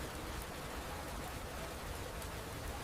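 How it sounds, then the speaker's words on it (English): Rain against window glass makes an even, dense hiss of patter, steady and moderately quiet throughout with no voices. "She sat in a room with rain against the glass."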